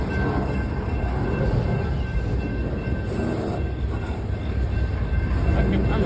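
A BNSF freight train rolls past at night near Fosterville, Tennessee, a steady loud rumble of rail cars and wheels going on without a break and close by, with no talking.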